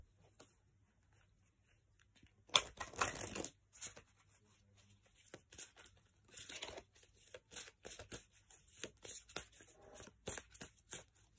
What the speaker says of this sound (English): I've still got some more decks of cards here. The Magical Unicorns, Oracle cards.